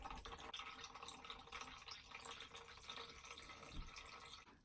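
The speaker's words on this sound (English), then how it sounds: "Gonna drain the water first." Water draining from a small Wish mini washing machine for makeup brushes, a faint steady trickle and gurgle of running water with light drips close by and no voices.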